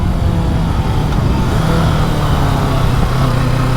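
A 2020 Kawasaki Ninja 650 motorcycle revving hard at high rpm on a bumpy road, a loud, continuous engine drone with wind noise, close and steady throughout, no voices.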